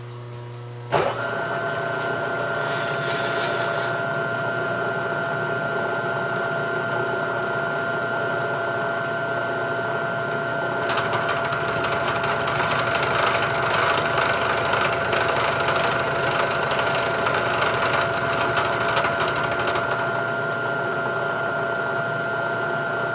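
A milling machine cuts a steel carriage stop clamp bolt head, a steady mechanical whir and grinding hum that starts with a sharp clunk, then grows louder and brighter with a harsh hiss partway through before easing back.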